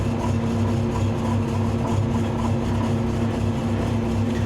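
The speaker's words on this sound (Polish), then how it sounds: "tak zapolił czterocylindrowy lipcherowski silnik na mrozie" A Liebherr LTM 1100/4 mobile crane's four-cylinder upper-carriage engine idles after a cold start at -12 degrees, a steady low rumble with a constant hum, close and alone with no voices.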